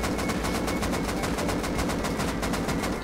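An automatic rifle fires sustained bursts in the video game Rust, a fast, even, loud rattle of shots continuing for the whole stretch without pause.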